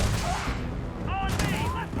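Video game gunfire in Starfield rattles in dense, loud volleys while voices shout over the shooting in a short, chaotic firefight.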